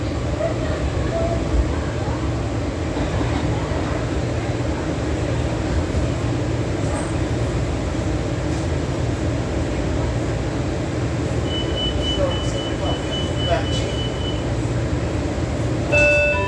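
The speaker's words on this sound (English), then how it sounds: "This is a yellow line train" Washington Metro Yellow Line train standing at a station, a steady low rumble and hum of the railcar with faint brief tones and clicks near the end.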